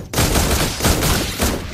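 Granger's Crescendo of Bullets volley in the Mobile Legends video game: a loud, dense burst of rapid gunfire with a few heavier pulses, near and continuous, with no talk.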